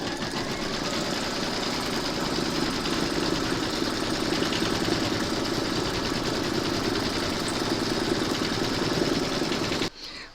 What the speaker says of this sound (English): You're now going to pop your hoop into your machine and stitch round number 5